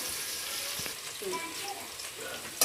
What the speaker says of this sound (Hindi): अब जो ये प्याज है हमारा थोड़ा सा ब्राउन हो जाएगा, हल्का ब्राउन हमने करना है